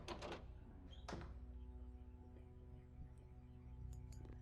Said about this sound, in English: Let's go through this door and see where it leads.